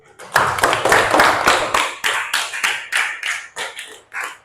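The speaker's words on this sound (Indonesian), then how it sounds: "Beri tepuk tangan." Children in an Islamic studies class clap together in a burst of loud, close claps that break into several rhythmic rounds and taper toward the end.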